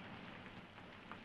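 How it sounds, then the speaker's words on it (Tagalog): Steady rain falls as a soft, even hiss with faint patter, distant and quiet throughout with no voices. "Umuulan na."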